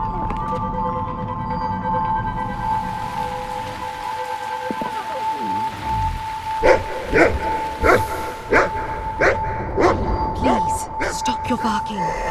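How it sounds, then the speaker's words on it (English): A dog barks in a run of sharp, evenly spaced yaps in the second half, loud and close, after a stretch of steady tonal background noise, with no talk over it. "Please, stop your barking."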